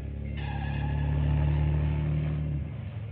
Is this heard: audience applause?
no